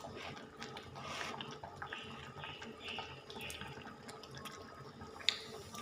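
Water pours and trickles into a pot of Thai egg and pork curry, a soft, continuous splashing close by with a couple of sharp clinks near the end.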